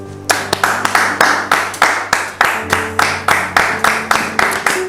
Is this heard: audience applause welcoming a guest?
yes